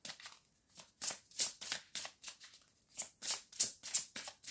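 Tarot cards shuffled by hand nearby, a steady run of crisp riffling bursts in quick irregular rhythm, about a dozen flutters over several seconds, alone with no talking.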